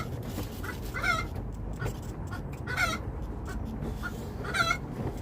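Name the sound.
chicken clucking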